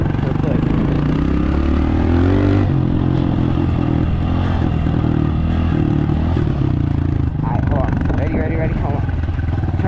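A dirt bike engine roars loudly and steadily up close, its pitch shifting between gears, with a voice talking over the noise.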